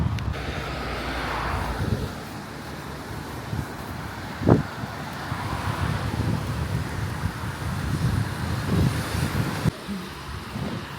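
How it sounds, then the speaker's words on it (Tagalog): Strong, cold wind roars steadily across the microphone during an outdoor walk, a continuous close rumble with gusts swelling and easing throughout. "Kahit malamig, malakas ang hangin."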